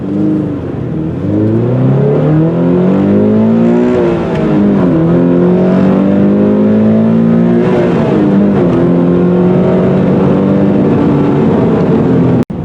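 A 2020 Toyota 86 Hakone Edition's engine winds up high toward its 7,500 RPM limit, loud and close, with rising harmonic revs that climb, dip at a shift, and climb again, sounding somewhat strained, then cut off abruptly.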